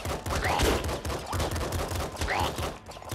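Rapid SMG bursts in a first-person shooter video game, dense crackling gunfire firing nearly continuously at close range, with brief dips between volleys.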